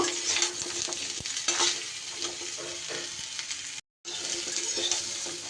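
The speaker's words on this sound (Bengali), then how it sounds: "ডাঁটা দিয়ে কিন্তু আমি খুব বেশি সময় আর ভাজবো না তিরিশ চল্লিশ সেকেন্ডের মতো নেড়ে নেব" Cut vegetable stalks are stir-fried in a pan along with potato and pumpkin, a close, steady hiss of sizzling with spatula scrapes and a brief cut-off near the end.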